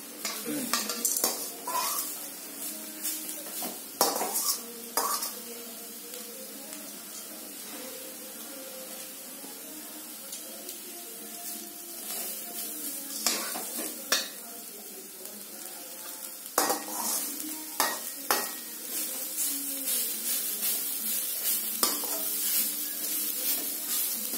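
Grated carrots for carrot halwa sauté in a pan as a spoon scrapes and stirs them, with a steady close sizzle and repeated clinks of metal on the pan that come in irregular bursts throughout.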